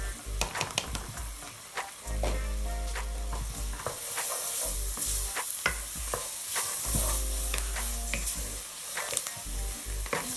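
Celery being stirred into a roux in a hot pan, sizzling and frying steadily with repeated scraping stir strokes, close and fairly loud with no talking.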